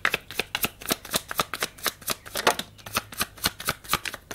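Playing cards are handled and dealt, giving a close, crisp run of rapid flicks and snaps in an even rhythm with no voices.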